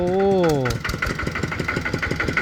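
A small engine runs on a homemade farm vehicle from northeastern Thailand, idling and chugging in a steady rapid putter. A voice is heard briefly at the start.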